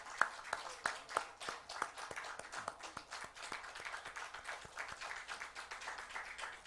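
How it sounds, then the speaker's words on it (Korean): Applause from a congregation at a church elder ordination service during a flower presentation, irregular hand claps spread through the room, moderately distant and steady for several seconds. "박수합니다."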